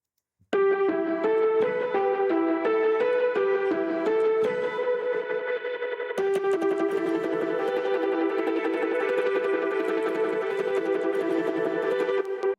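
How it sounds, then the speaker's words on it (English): A DnB remix, its arp line shaped with effects and built in Serum 2, kicks in after a short silence, then opens out at the drop into a fuller, brighter, wider texture that rolls on steadily, loud and without vocals. "the ARP's FX opens up in the drop"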